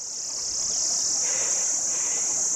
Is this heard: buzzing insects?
yes